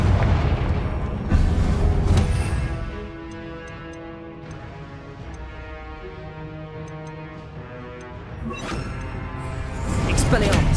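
Spell blasts from Incendio and Confringo in Hogwarts Legacy burst with loud booming impacts at the start and end, separated by a ringing, sustained tonal shimmer with small ticking accents.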